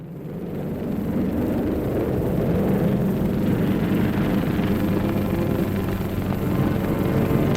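A Shikishima unit kamikaze aircraft taking off from a runway at the Battle of Leyte Gulf, with a dense, continuous engine roar that swells in the first second and holds loud and steady throughout.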